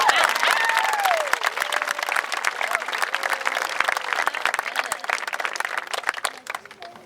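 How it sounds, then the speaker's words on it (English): Audience applause at a school ceremony, a dense sustained wash of clapping from a large crowd that fills the room and tapers off toward the end. "Can we give all 3 of them another round of applause?"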